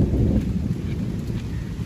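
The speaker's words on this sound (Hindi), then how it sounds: "आज बादल का साउंड सुनने के लिए मिल रहा है भाई, जो गरज रहे हैं" Thunder from a storm rumbles as a continuous low roar, loud and close, mixed with steady rain and some wind throughout, with no voices.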